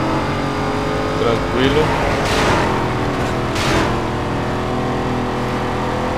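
In the Need for Speed Most Wanted video game, a Chevette fitted with a Mustang engine revs with a loud sustained engine roar and swells as it accelerates, while someone briefly talks over it.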